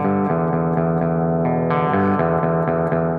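An alternate clean electric guitar intro rings out with chorus-like effects, a steady run of picked notes with a shift partway through, loud and alone.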